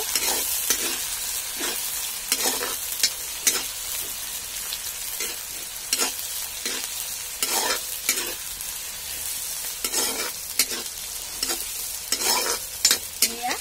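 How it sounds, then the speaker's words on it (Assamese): Onions sizzle and crackle steadily in a hot pan over a fire, with repeated bursts of scraping as they are stirred, close and fairly loud. "পিঁয়াজখিনি এতিয়া মই এইদৰে অলপমান সময় ভাজি ল'ম।"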